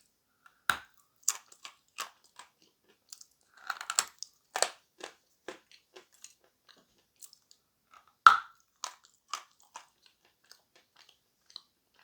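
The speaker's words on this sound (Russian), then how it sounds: "Хруст тут шикарный только когда откусываешь." Crunchy edible clay bitten and chewed close up: a few sharp crunching bites followed by a steady run of smaller, drier crackling chews, with brief pauses and no talking.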